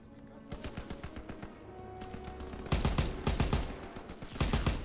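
Call of Duty WW2 gunfire: a steady rhythm of close rifle and machine-gun shots, quieter at first, then louder, heavier bursts toward the end.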